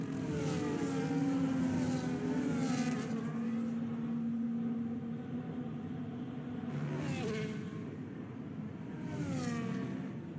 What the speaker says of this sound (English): give Tank a wee bit of coverage tonight as he really puts down some pace along this fast part of the Spa circuit